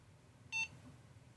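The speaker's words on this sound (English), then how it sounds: "Beep." A single short electronic beep from an abandoned industrial cake machine's computer as it boots, sounding once, clear and alone over a faint background hum.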